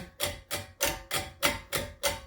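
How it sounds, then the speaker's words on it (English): Seven evenly spaced scraping, rattling swishes repeat in a steady rhythm as a brake pad flaps around and a new clip rubs on the caliper bridge of a 2014 Dodge Durango. "That noise you're hearing is the pad flapping around and the new clip rubbing on the bridge"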